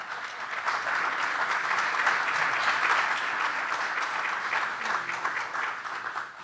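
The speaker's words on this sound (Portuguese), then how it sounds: "Eu queria vos pedir uma salva de palmas muito especial para a nossa orquestra." An audience applauds the orchestra at a city honour ceremony in Lagoa: dense, sustained clapping from a large crowd that holds steady for several seconds before starting to fade.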